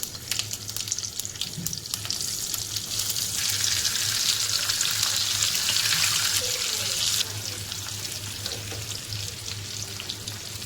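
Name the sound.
stuffed bell peppers frying in hot oil with mustard and cumin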